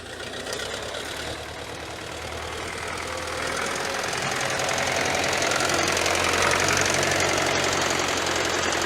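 A YuMZ-6 tractor engine runs with a rough, knocking diesel chug during heavy spring ploughing with a PLN 2-35 plough, loud and close, its rumble building steadily toward the end.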